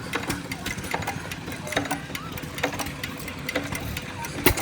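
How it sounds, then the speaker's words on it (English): An antique T&M stationary engine runs slowly and evenly, its regular chuffing firing beats and mechanical clatter close by, with faint crowd murmur behind. "Another T&M, beautiful runner. Somebody did some really nice work on this. Runs perfect and slow."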